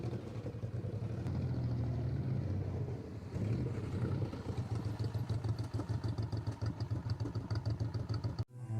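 A motorcycle engine runs through a riding skill test at a California licensing course, droning steadily and then pulsing in uneven bursts as the rider works the throttle, before cutting out abruptly near the end.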